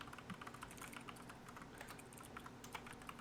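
Typing on a computer keyboard, a fast, steady patter of soft key clicks heard faintly against a background hum, with no speech.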